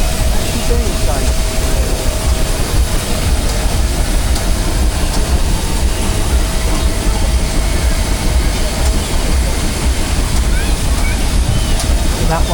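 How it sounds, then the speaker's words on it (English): A Burrell showman's steam road locomotive at a steam rally runs with its generator working, giving a loud, steady mechanical rumble and whirr with no pauses, close by and dense across the whole span. "So here's a Burrell road locomotive. Again, it's a Showman's engine. Note that the generator is actually working."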